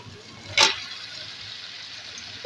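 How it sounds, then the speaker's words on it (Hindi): Water poured into a pan of kofta curry cooking on the stove, a single brief splash near the start, then a quiet ongoing simmer. "थोड़ा सा पानी ऐड करूँगी।"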